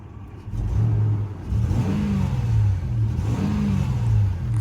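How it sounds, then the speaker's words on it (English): A 2001 Toyota 4Runner SR5 Sport Edition engine revs up repeatedly, its deep exhaust note rising and falling loudly and close by, with no talking. "Has a great exhaust note"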